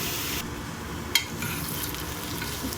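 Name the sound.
whole spices frying in oil for mutton keema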